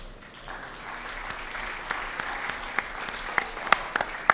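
Audience at a school board meeting applauding student recipients, a continuous wash of clapping that builds in intensity, with a few louder, closer claps standing out near the end.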